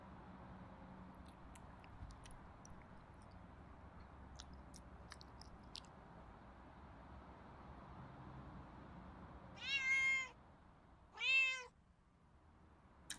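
A cat in the Pets Hotel video game meows while chasing a feather on a stick. Two clear, drawn-out meows come near the end over quiet background noise, after faint chewing-like ticks.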